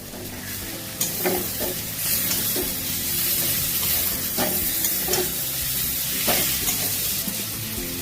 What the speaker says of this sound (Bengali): একটা টমেটো কুচো করে রেখেছিলাম, দিয়ে দিচ্ছি